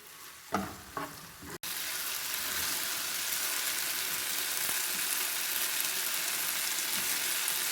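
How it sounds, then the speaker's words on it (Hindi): Chicken frying in a pan on high flame, a loud dense sizzle that bursts in after a few utensil clicks and then holds steady and close, no talk. "अब हम इसको मज़ीद भून लेंगे थोड़ी सी हाई फ्लेम करके।"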